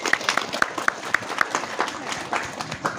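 Scattered clapping from a crowd at the outdoor opening of a village market festival, honoring the village head; sharp individual claps stand out at first, then blend into looser, lighter applause mixed with crowd voices.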